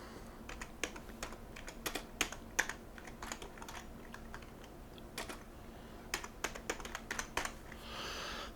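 Quick, irregular keystrokes tap on a computer keyboard close by, in short bursts with brief pauses, as a title is typed into an input box.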